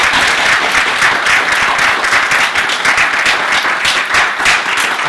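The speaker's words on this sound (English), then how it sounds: "Please join me in a hearty round of applause" Dense, steady audience applause fills the room for the whole stretch, welcoming a speaker to the podium at an academic event on modernisms in Britain, Canada and the United States; loud and continuous with no talk over it.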